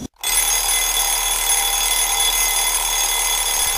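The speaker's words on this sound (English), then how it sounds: "Turn that alarm clock off." An alarm clock rings loudly and continuously, a steady dense electronic ringing that starts abruptly after a brief silence and holds at constant level throughout.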